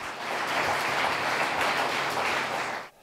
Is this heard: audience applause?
yes